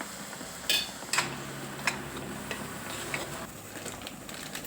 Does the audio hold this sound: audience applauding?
no